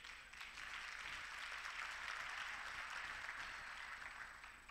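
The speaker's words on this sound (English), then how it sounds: "Can we clap hands for my fellow" A church congregation at a Sunday service claps hands together in a steady, even wash of applause, distant and soft, continuing for several seconds with no speech.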